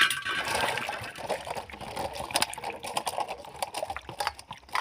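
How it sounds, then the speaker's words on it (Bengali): Whole raw green mangoes being rinsed under running water in a kitchen, with a steady close splashing and trickling wash that rises and falls as the fruit is handled, and small knocks of fruit against a basin. "প্রথমে আমি গোটা আমগুলোকে জল দিয়ে ধুয়ে নেব"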